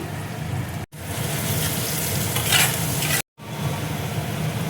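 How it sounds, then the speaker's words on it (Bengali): Chopped onion with salt fries in a pan over nigella seed tempering for Bengali pointed gourd bharta, a steady close sizzle with stirring scrapes, broken by two brief silent cuts. "পেঁয়াজ কুচি আমি দিয়ে দিচ্ছি। মতো দেখো নুন দিয়ে দিচ্ছি।"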